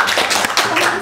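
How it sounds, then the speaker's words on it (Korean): A small group claps on a Korean variety show set with women's volleyball players, a quick, close burst of hand claps lasting about a second, mixed with voices. "박수 해주세요"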